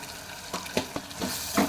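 Tomatoes and turmeric sizzle and fry in a pan while being stirred, a close, steady crackling hiss broken by soft scraping strokes of the spoon, with no voices.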